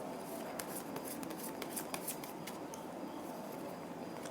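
Tarot cards riffled and shuffled by hand during a reading, a quiet, brisk run of papery flicks and snaps, close and soft with no talking.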